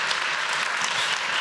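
An audience at a university council gathering breaks into brief, dense applause, a steady wash of many hands clapping together with no pauses.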